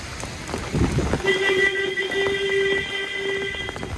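Steady heavy monsoon rain with wind in Damnagar, a dense continuous hiss filling the background, with a faint tonal hum running through it and no speech.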